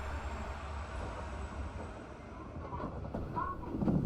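A rapid-service train pulls out of Shiwaguchi Station in Hiroshima, its steady low rumble and rolling wheel noise building slightly as it gathers pace, with faint squeals near the end.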